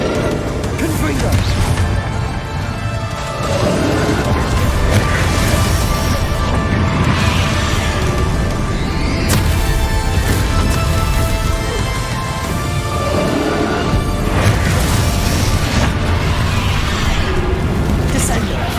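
Confringo fire blast spell exploding in Hogwarts Legacy: crashing, whooshing bursts that keep coming over loud, continuous game music, with in-game character voices talking throughout.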